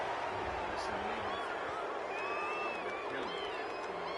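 A home crowd roars in approval during a Madden 21 football game after an interception, a dense, steady cheer sustained for the whole stretch with faint voices mixed in.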